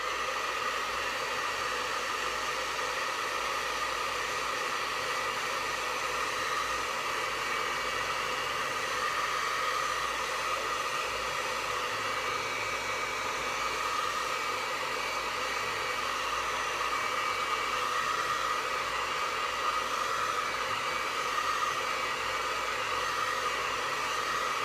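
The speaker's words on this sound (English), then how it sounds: "probably hit it with the hairdryer for a couple seconds and then do a second coat" A hair dryer blows continuously at a steady, loud whoosh for the whole stretch, drying paint on a quilt square, with no pauses and no voices.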